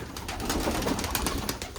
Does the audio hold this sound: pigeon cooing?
yes